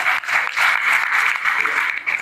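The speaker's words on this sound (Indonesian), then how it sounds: "Cakep itu, tepuk tangannya ikhlas." Audience at a talk in Indonesia applauding, a dense, steady burst of clapping that fills the short moment without voices.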